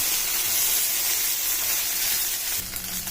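Okra sizzles hard in a hot kadai, a loud, dense, continuous frying hiss up close that shifts near the end as the pieces are stirred, with no talking over it.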